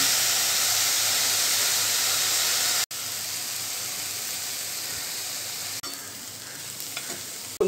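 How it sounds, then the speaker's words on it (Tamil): Ponnanganni greens stirred in a frying pan, a steady loud sizzle and hiss running throughout with two brief sharp breaks, no talking. "சேர்த்து நல்லா கிளறி விட்டுக்கோங்க."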